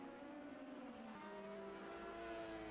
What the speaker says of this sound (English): Does sound really cool, that Mazda.